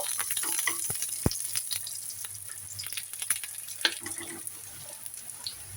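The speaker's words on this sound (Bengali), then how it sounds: "রসুনটাকেও আমি লাল লাল করে ভেজে নিব।" Garlic fries in hot oil with a steady bright sizzle and crackle, close by and continuous, with scattered sharper pops and light spoon scrapes.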